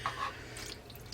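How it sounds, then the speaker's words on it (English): Hot blanching water poured from a pot into canning jars packed with peppers and onions, a brief close splash and trickle of liquid into glass with a short dripping finish. "I am filling them with the water that I blanched them in"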